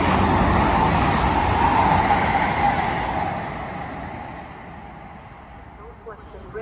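Avanti West Coast unit 805009 running through Milton Keynes Central at rush hour, a loud broadband roar that fades steadily as the train moves away, with no talk over it.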